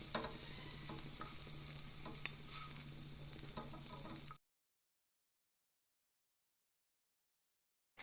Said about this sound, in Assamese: এয়া মই পনীৰ ফ্ৰাই কৰা হৈ গৈছে